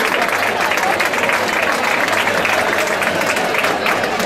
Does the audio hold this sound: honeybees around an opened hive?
no